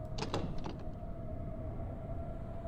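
Door handle rattled on a locked door in Amnesia: The Dark Descent: two or three quick close metallic clicks and clunks at the start, then a low steady hum of ambience.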